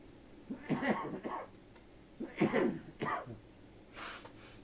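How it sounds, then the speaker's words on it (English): Several harsh coughs come in short bursts, close and fairly quiet, separated by brief pauses. "Apologies for the coughing, as usual."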